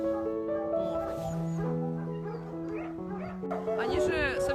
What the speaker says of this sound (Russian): А сейчас просто уже такая взрослая собака у меня на руках, да?